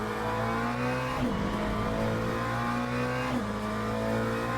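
A race car engine in Le Mans Ultimate holds a loud, steady high-revving drone, with two sharp gear-change drops in pitch before climbing again, close and alone.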